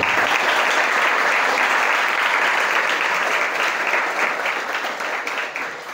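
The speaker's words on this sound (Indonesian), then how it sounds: "Berikan tepuk tangan kalian untuk Indonesia." A school audience at a motivational seminar applauds at a junior Islamic high school in Bogor, with loud, sustained clapping filling the room before easing slightly at the close.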